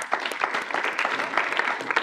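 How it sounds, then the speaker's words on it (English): A student senate gathering gives a brief round of applause after a resolution passes unanimously, a short burst of moderate clapping from a modest group. "If we give them a round of applause."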